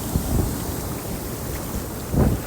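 Large ocean waves roll in at a Gold Coast beach in Australia, a broad wind-blown surf roar with two heavier surges breaking close by, no talking.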